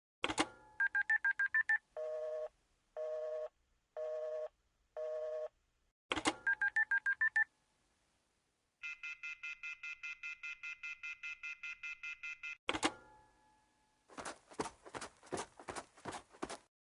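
Telephone dialing tones, clipped beeps in rapid sequences and repeated bursts with pauses between, followed by a long rapid string of tones and a few sharp clicks, fairly quiet and alone.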